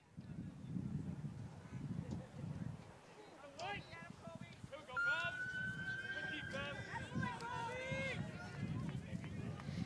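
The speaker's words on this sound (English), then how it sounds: "it's a police car driving by with the sirens on" A passing police car siren wails in the background, rising and holding a long tone beneath crowd noise and commentary voices at a high school boys' lacrosse game.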